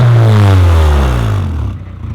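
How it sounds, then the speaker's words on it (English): Honda Prelude engine with a neochrome exhaust, heard loud and close as a deep running rumble that eases and fades over about two seconds. "It's running pretty good. It's got its little neochrome exhaust on,"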